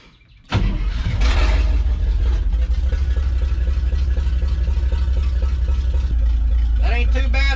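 The engine of a 1963 International Harvester Loadstar truck fires up, then idles loud and close with a steady, deep rumble. A voice comes in near the end.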